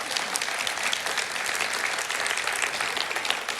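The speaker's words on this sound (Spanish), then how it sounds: "Dale un aplauso a Cristo resucitó." A church congregation applauds during a worship service, with continuous, even clapping from many hands throughout, moderately distant and without speech.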